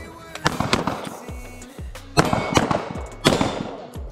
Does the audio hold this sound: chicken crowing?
no